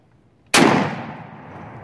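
A single shotgun blast during a turkey hunt, close and sharp, with a sudden loud crack that decays over about a second into the surrounding quiet.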